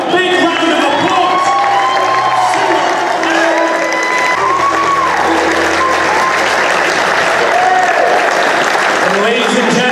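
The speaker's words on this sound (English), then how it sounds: "Let's give him a big round of applause." A theater audience at a reunion event for the film Gotti applauds, with dense, loud, sustained clapping and scattered cheers that fill the whole stretch without pause.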